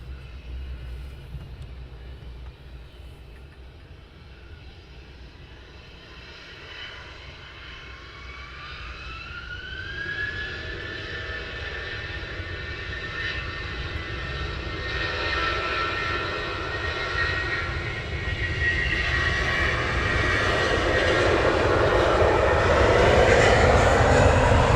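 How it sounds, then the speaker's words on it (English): Gulfstream business jet on approach at Luton Airport, a rising engine whine and broad roar that swells steadily louder as it nears, with no voices over it. "I can see the Gulfstream now on approach"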